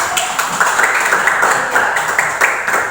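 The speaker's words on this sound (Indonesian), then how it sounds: "kasih aplaus dulu" An audience in a classroom lecture on economics applauds, a steady wash of many hands clapping together at close range, loud and continuous for several seconds.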